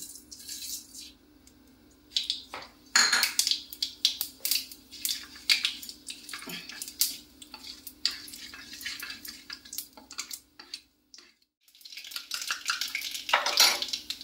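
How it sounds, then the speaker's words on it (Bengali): Black mustard seeds crackle and pop in hot oil for a Bengali paneer-and-yogurt dish, with dense bursts of spattering and metal utensil clinks that pause briefly before resuming. "তেলটা গরম হয়ে গেছে, এবার কালো সর্ষে দিয়ে দিচ্ছি"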